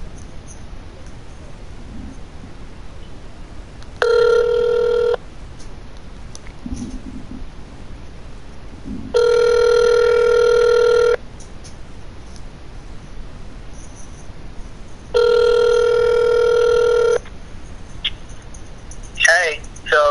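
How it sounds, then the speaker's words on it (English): A phone call rings out in three evenly spaced electronic ringback tones, each lasting one to two seconds, against a quiet room background. "Hey Siri, call Chris."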